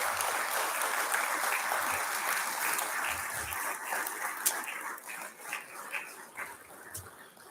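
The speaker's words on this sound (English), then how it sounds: "So, just kind of everybody give a round of applause for it." Audience applause at a city's 15th anniversary celebration honoring first responders, a sustained crowd clapping that fades toward the end, heard from within the room with scattered cheers.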